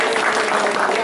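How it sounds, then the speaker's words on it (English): An audience at a public library event bursts into brief, dense applause, a loud, continuous wash of many hands clapping. "Let's give them another clap"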